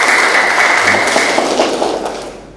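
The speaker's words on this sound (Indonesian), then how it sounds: "Kita beri tepukan yang meriah untuk Pater Remi." An audience at a talk on St. John of the Cross's spiritual canticle gives Father Remi a dense, loud round of applause that stays steady, then thins and fades away over about two seconds.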